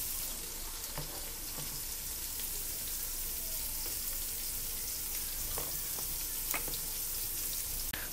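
Onions frying in a pan for mutton biryani, a steady, even sizzle and crackle throughout with a few faint stirring clicks, close and alone.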